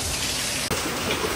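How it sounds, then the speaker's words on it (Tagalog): Heavy rain pours down in a steady, dense, close hiss that fills the whole stretch, with one split-second dip before the downpour carries on. "Grabeng ulan."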